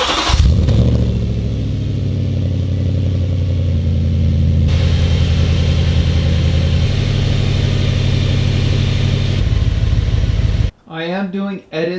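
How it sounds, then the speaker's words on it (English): A B7 Audi RS4 engine idles for several seconds, a steady close rumble that shifts slightly in tone partway through, then cuts off abruptly near the end, followed by a brief voice. "turn on and off the car a couple more times. I'm going to let it idle for about 5 minutes"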